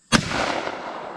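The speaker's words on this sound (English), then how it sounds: "I decided I better take at least one practice shot before I started busting some of the clays." A single loud shotgun blast fired as a practice shot before shooting clay targets outdoors at a creek, a sharp close report followed by a long rolling echo that fades over about a second.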